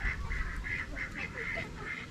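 Domestic ducks, including Peking ducks, quack repeatedly in a steady, nasal rhythm, several calls close together over a low background rumble.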